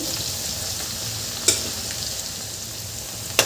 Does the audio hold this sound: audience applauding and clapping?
no